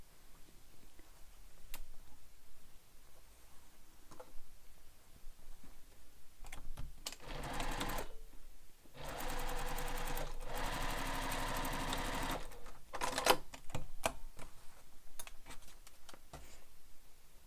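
A sewing machine stitching a beach bag from corner to corner with back stitching, running in short bursts then longer steady runs of rapid whirring and clicking, with quiet handling noise between passes.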